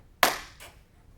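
A single sharp hand clap, close and crisp, with a quick decay, followed by a fainter secondary slap or echo a moment later.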